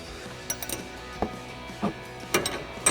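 A wrench tightening the set nut on a Five8 Industries SS coilover for a 2005-2014 Mustang: a few sparse metallic clicks and clinks spread out, fairly faint and without talk.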